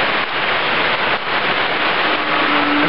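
Heavy downpour somewhere in Southeast Asia, a loud, dense, continuous roar of rain beating on surfaces throughout, with no talking.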